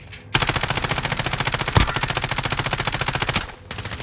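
Rapid automatic gunfire in Call of Duty Warfare, a loud continuous machine-gun burst of several seconds with one heavier shot midway, then a brief pause and more firing.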